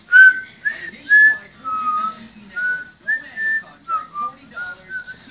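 Someone whistles a simple tune alone, short melodic phrases with brief pauses between notes, close and clear.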